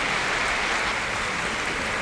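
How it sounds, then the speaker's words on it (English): An audience at a Christmas show applauds a guest seated in the front row, a steady, dense wash of clapping that holds evenly throughout without any voices. "Please, everybody, give a huge round of applause to Mr."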